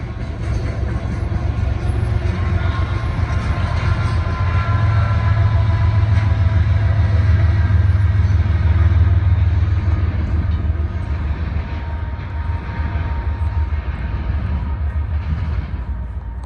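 Continuous heavy rumble of a passing freight train with distributed power locomotives, deep engine drone and steady rolling clatter, loud and close throughout.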